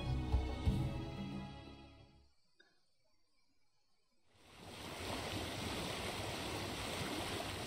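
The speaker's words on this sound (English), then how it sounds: "The ship was cutting through the gentle waves, sailing further into the Pacific." A ship sails through gentle Pacific waves in a video game, a soft rushing wash of water that fades to near silence midway and then swells back into a steady, broad surf-like hiss, faint and continuous, no talking.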